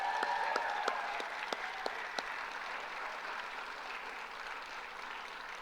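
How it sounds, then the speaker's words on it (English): An audience at a state civics bee final gives the student participants sustained applause, a steady, moderately distant clapping wash with a few sharper individual claps standing out early, gradually easing off. "And a big round of applause for all of our students who came and participated here today."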